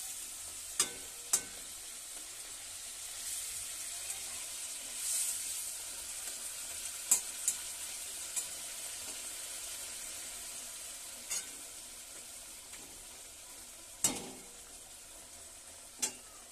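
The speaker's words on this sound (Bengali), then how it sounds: "ভালো করে ফুটে গেলে আমি নামিয়ে নেব" Bengali fish kalia curry simmering in a pan, a soft steady bubbling hiss broken by occasional sharp clicks and scrapes of a spoon stirring.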